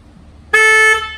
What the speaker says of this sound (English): And then honk the horn.